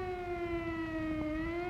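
A Cold War civil defense air raid siren in Westphalia, Germany, wails loud and steady with layered harmonic tones and a slight dip in pitch partway through, alone with no voices.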